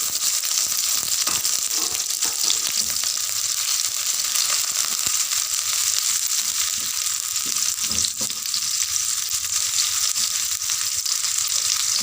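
Sliced shallots frying in hot oil give a steady, dense sizzle that stays loud and even throughout, with occasional faint stirring scrapes underneath.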